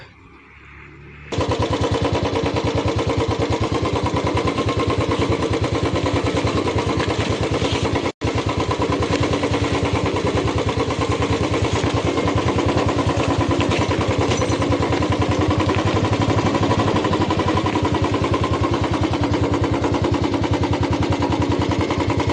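A motorcycle rides down a track toward a river, its engine a loud continuous rapid rattling putter that holds steady close by for the whole stretch, with one brief dropout.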